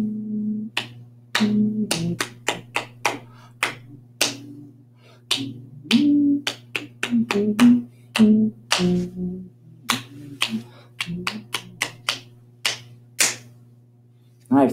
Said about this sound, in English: see if you can clap it without saying it